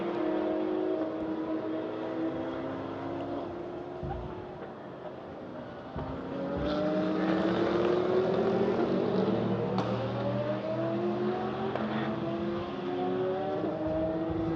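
Race cars, a Porsche among them, lap the Hockenheimring in a sprint race, engines droning and rising in pitch as they pass at a steady, continuous level with no talk.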